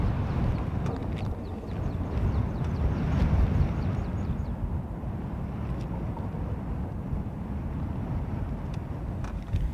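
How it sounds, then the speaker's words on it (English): Steady, heavy low roar of wind buffeting the microphone throughout at Dublin Airport, with faint clicks and rattles above it. "shocked how windy it is today"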